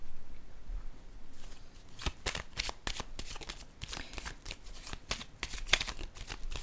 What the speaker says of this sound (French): Je vais déposer une carte ici, sur la carte du sacrifice.